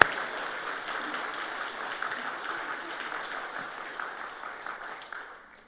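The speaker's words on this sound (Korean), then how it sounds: "부활하신 예수님께 감사의 박수 한번 치십시다" Church congregation applauding together during a Korean Sunday sermon, a steady broadband clatter of many hands that holds evenly for several seconds and then tapers off near the end, with no talk over it.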